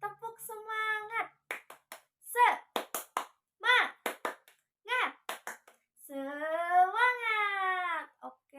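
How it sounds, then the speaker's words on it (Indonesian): A child leads a rhythmic 'tepuk semangat' spirit clap before a Quran lesson, with sharp hand claps in quick patterned bursts mixed with chanted and spoken words, ending in a longer sung phrase. "gimana kalau kita tepuk semangat dulu? Bareng-bareng ya, kita mulai. Tepuk semangat."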